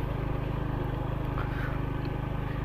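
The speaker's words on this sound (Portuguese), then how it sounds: "Poder estar pilotando uma Pop 110Z, que é uma moto de entrada da Honda." A Honda Pop 110Z entry-level motorcycle drones steadily while being ridden, a continuous close, loud engine rumble with a fast, even pulse and no talking.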